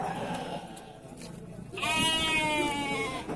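Young male sheep at a livestock sale bleat, a long wavering cry rising clearly over a murmur of background voices and farm noise and holding loud to the end.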